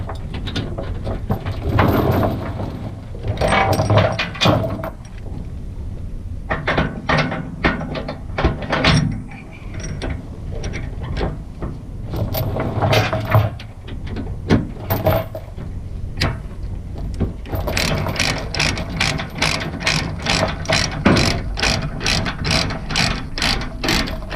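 Metal chain is fed through and ratcheted while securing a hotshot trucking load, a long run of clanking links and rapid ratchet clicks that grows into a dense, steady clatter near the end, with no talking.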